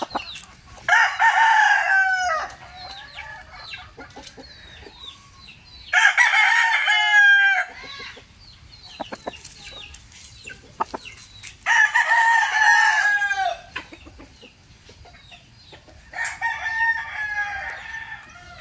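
A two-year-old rooster crows loudly and close by, four long cock-a-doodle-doo calls spaced evenly several seconds apart, with quieter clucking and barnyard sounds in the gaps and no talk.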